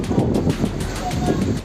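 Gale-force winds above 8 Beaufort roar steadily through a forest fire, a dense, continuous rushing blast with rhythmic gusting buffeting the microphone.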